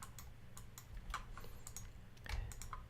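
Keys on a computer keyboard click in a quick, irregular series of light taps, quiet and close, as Command+Backspace shortcuts are pressed repeatedly while building a Unity game level.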